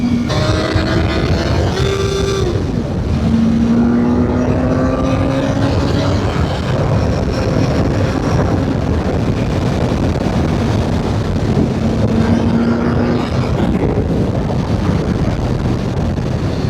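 A BMW S1000R motorcycle accelerating hard in second gear, its engine note climbing in rising sweeps through the revs under heavy wind rush close to the microphone.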